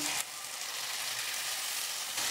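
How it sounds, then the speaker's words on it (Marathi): Tomato puree with spices sizzles in a pan on high heat for spicy fried rice, a steady close hiss of frying with slight surges at the start and end. "आता 1-2 मिनिट मी परतून घेते"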